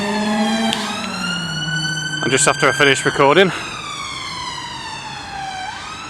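Ambulance sirens wail with rising and falling tones, fairly close, in Rugby, Warwickshire, while someone speaks briefly over them midway.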